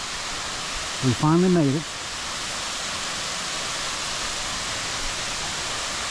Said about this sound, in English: This is the final waterfall